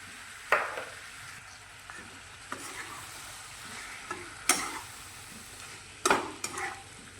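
A yogurt mixture is stirred into a frying capsicum and paneer curry, with a soft ongoing sizzle and a few sharp clanks and scrapes of a spoon against the pan.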